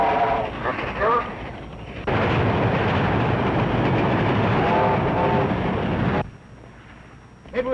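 A train rushes past in a loud, sustained roar with rattling wheels for about four seconds, then cuts away. Urgent voices speak before the pass and again faintly afterward.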